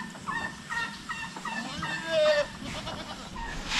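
Young goat kids on a farm bleat for their missing mother, giving a string of short, wavering cries close by over a busy farmyard background, with faint voices now and then.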